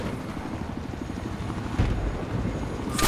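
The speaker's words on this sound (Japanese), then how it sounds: "ヘリがいますね。" A helicopter in the shooter game Battlefield 4 keeps up a steady, rapid rotor chop with a low engine drone, growing a little louder partway through, with no talk over it.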